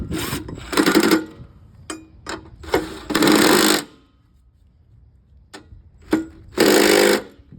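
A power tool runs bolts up on a riding lawn mower cutting deck, giving several short loud bursts of buzzing drive with pauses and small clicks between them.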